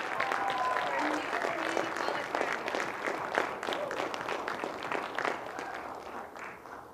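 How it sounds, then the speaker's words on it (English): A large crowd at a graduation ceremony applauds warmly, steady clapping that gradually thins and fades toward the end. "Let's give another round of applause."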